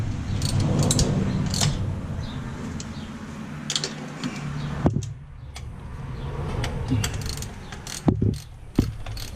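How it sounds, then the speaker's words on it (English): Ratchet tightens bolts on a carburetor throttle bracket, close metallic clicking in irregular bursts mixed with rattling handling noise and a few sharp clanks of tools against metal. "So now I'm just tightening back down the bolts."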